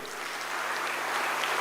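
An audience applauds in welcome for a guest at a gathering, a steady, dense wash of clapping that stays even throughout and has no voices over it.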